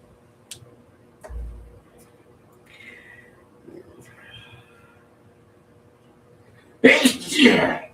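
One loud sneeze close to the microphone at the end of a quiet indoor stretch with faint ticking and small handling sounds.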